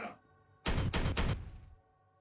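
A short burst of video game gunfire in Warhammer 40K Regicide: three rapid, loud shots in quick succession, followed by a fading ring, set against quiet background tones.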